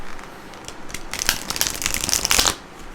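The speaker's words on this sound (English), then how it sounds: "So I'm going to shuffle these one more time." Tarot cards are shuffled close by, a steady crisp flutter of sliding and riffling that builds and then stops abruptly.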